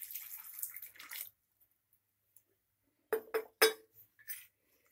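Half a litre of water poured into a pressure cooker holding beans, fresh avarekalu and salt: a short, quiet splashing pour, a pause, then a few sharp metallic clinks close by.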